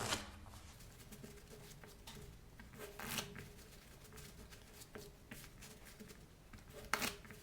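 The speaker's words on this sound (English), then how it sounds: "I'm going to shuffle the cards." A deck of playing cards is shuffled for a poker game, with soft riffling flutters and sharp snapping bursts at irregular intervals, close and quiet, the loudest riffles near the middle and end.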